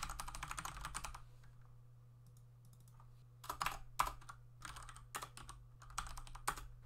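Code is typed on a computer keyboard in quick, irregular bursts of close, crisp key clicks separated by short pauses, over a low steady hum, with no talking.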